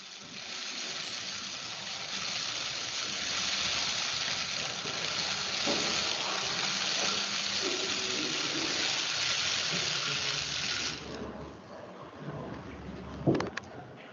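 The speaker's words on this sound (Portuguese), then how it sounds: "o operador colocará água destilada até cobrir a amostra" Distilled water poured into a laboratory flask over a soil sample of about 200 grams, a steady rushing pour that lasts roughly eleven seconds, then a few faint knocks and handling sounds.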